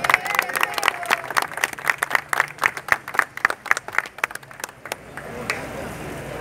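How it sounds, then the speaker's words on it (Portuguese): Applause from a crowd at an outdoor Brazil-wood tree planting ceremony in São Paulo, a few seconds of sharp, uneven claps close by that thin out and stop. "Aqui eu peço uma salva de palmas."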